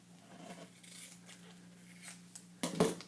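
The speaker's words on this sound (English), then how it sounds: "Let's just see if we can cut through this with the Carl" A Carl personal paper trimmer slices through paper in a quiet room, a soft scraping drag building to a sharper crisp cut near the end.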